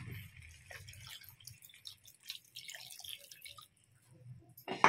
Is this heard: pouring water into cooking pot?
yes